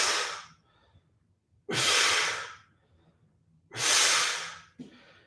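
Three forceful exhaled breaths during a training exercise, each a long airy whoosh separated by a quiet pause, close and loud, with a short softer breath at the end.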